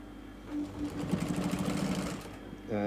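A sewing machine stitches fur around the edge of a handmade hand puppet, a steady close whirring hum for about two seconds between brief pauses.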